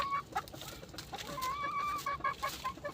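A chicken clucks in short, uneven bursts, fairly close but quiet, with soft rustling behind it.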